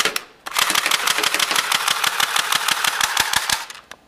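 An airsoft gun fires a rapid, evenly spaced burst of sharp clicks and pops, lasting about three seconds, close and alone.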